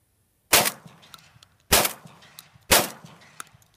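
A brand-new Hatfield semi-automatic 12 gauge shotgun fires three loud, sharp blasts about a second apart, each followed by a short ringing echo.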